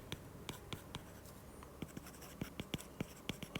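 Pen or marker strokes on paper during a statistics lecture on estimating a population mean, a quiet series of short scratchy taps and strokes at an uneven rhythm, close and faint, with no talk.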